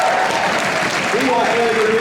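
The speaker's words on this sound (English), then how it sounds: "You clap for that." Rally audience clapping and cheering in a middle school venue during a presidential campaign event, a steady dense wash of applause with voices mixed in, loud and close throughout.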